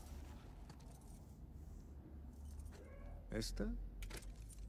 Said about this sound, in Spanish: ¿Vas a probar las llaves?